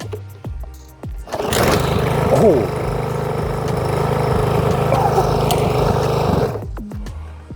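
A lawn mower engine fitted with a Motorola Razr phone as its blade roars to life and runs steadily at a loud, rough drone for several seconds, then cuts out; a brief exclamation is heard near the start.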